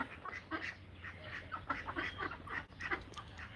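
Ducks quack repeatedly in short bursts, several birds overlapping, fairly close by and moderately loud against a quiet background.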